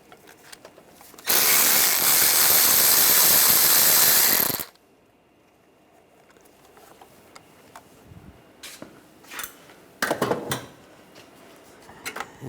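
A ratchet with a 10mm socket removes a nut on a 2009-2013 BMW 328i xDrive, starting with a loud, steady, buzzing run for a few seconds. Quieter clicks and a short burst of ratcheting follow.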